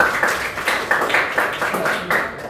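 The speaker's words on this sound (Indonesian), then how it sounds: "silakan beri tepuk tangan pada kelompok Sena ya" A small group of people in a classroom clapping for a presenting group, a short burst of fairly close, uneven hand claps with soft murmuring voices underneath.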